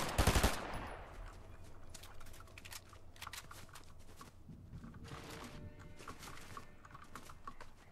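A loud burst of rapid gunfire from a shooting video game opens the moment, then fades into quieter, scattered clicks and distant shots.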